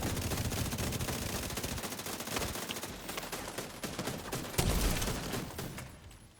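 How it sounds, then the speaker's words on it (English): Rapid bursts of rifle fire from a video game run dense and continuous, a loud near rattle of automatic shots with one sharper blast near the end, and no talk over it. "Which rifle is that even?"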